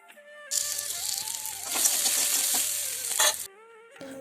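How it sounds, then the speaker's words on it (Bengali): Boiled potatoes hit hot oil in a wok with a loud burst of sizzling and rattling as they are stirred, lasting a few seconds before cutting off. "এরপর কড়ায় তেল দিয়ে দিলাম আলুগুলোও আস্তে আস্তে ভেজে নেব"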